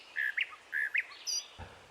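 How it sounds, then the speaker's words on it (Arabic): A European goldfinch sings in the wild: quick bright twittering phrases, three short paired chirp bursts in under two seconds, close and clear against a quiet background. "صوته العذب من أهم مميزات هذا الطائر"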